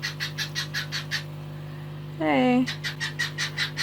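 Birds indoors give a run of rhythmic, repeated chirps, broken by one loud, drawn-out squawk, all over a low steady electrical hum. A person speaks a single short word.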